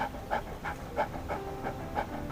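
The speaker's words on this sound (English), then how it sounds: "he spied a dog lying by the roadside, and panting as if he were tired" A dog in an animated story pants in quick rhythmic breaths, about seven tired huffs in a steady pattern, close and fairly soft, with no talking.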